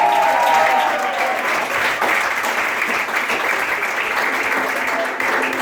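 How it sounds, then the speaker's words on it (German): Loud, steady applause from a crowd in a pub during a carnival concert, clapping continuously and densely with a few faint voices beneath it. "Großen Applaus!"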